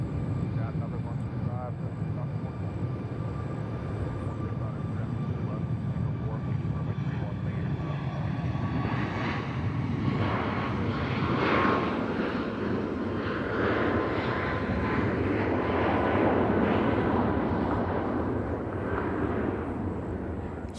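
A Southwest airliner at Nashville airport, heard as a broad, steady engine roar that builds and surges into a louder rumble in the second half, continuous throughout.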